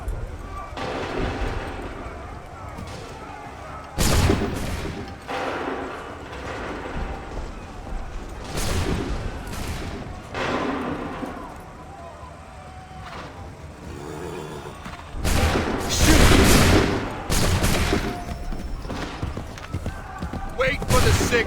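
Musket volleys ring out on a battlefield in Assassin's Creed III, with several loud broadband bursts of massed gunfire spaced across the scene, mixed with commanders shouting orders and a background din of battle noise.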